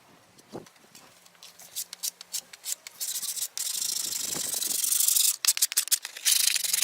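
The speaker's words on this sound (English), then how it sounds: "it's time to start sanding" Abrasive scraping of sanding against wood, in irregular bursts that grow louder and more continuous toward the end, close up with no talking.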